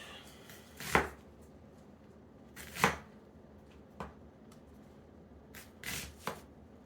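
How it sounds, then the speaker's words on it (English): A knife cuts through an onion on a board in about five quiet, separate chops, spaced unevenly with short pauses between strokes. No voices. "Not sure if you can see my onion cutting skills."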